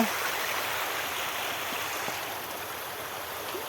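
Floodwater rushing steadily across a submerged school football field, a broad continuous wash of flowing water with no voices, loud and close throughout.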